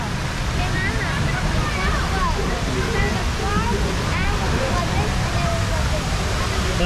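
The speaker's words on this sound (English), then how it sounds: "there's a big splash there" A big rushing splash of water at the Splash Mountain log flume ride at Disney's Magic Kingdom, a loud, steady roar of churning water, with voices calling faintly above it.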